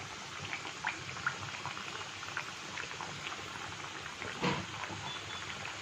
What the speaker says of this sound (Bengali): লো টু মিডিয়ামে এক পিঠ করে ভেজে নিতে হবে লাল করে